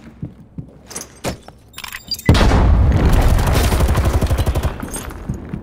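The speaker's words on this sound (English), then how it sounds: "Bro, he's just shooting." Video-game gunfire from a shooter, opening with scattered sharp cracks, then a sustained dense burst of rapid automatic fire that rattles on for several seconds at close range, loud and without talk.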